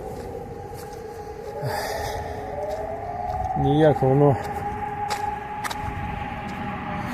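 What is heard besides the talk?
air raid siren in Kharkiv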